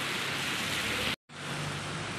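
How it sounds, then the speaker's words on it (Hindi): Steady heavy rain falls during a walk to a temple in Mumbai, a dense, loud hiss with one brief dropout, no voices heard. "सो गाइस, बारिश तो नहीं रुक रही है"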